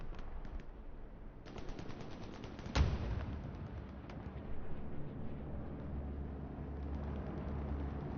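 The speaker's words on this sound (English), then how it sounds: "That's a German bombing run right on the chapel" Distant, rumbling bombing run by German aircraft striking a chapel in a competitive online war game match, with steady low battle rumble and rattling gunfire, plus one sharp blast near the three-second mark.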